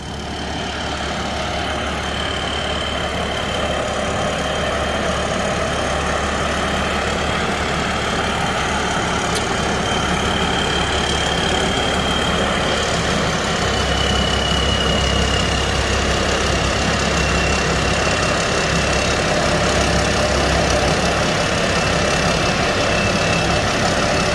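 A combine harvester's engine drives onto a trailer, a steady loud diesel rumble with a constant whine running throughout, close and unbroken, with no voices.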